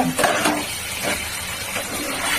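Katla fish curry with masala, ridge gourd, capsicum and potato being stir-fried in a pan, with repeated scraping stirs over a continuous close sizzle.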